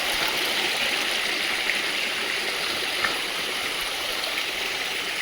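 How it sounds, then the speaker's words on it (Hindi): A rain-fed seasonal mountain stream near Pipaltad village in the hills rushes in a constant, loud, close wash of flowing water, steady throughout and with no voices over it. "ये देखिए बरसाती नाला।"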